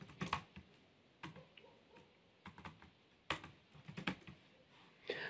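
Keys tapped on a computer keyboard in short irregular bursts with pauses between them, close and fairly quiet, with no voices over the clicking.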